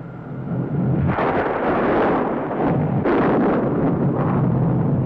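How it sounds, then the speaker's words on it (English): Deep thunder rolls in a stormy scene, a sustained loud rumble building from a quiet start and swelling again in waves with no talk over it. "Looks like the thunder and lightning's on their ball team."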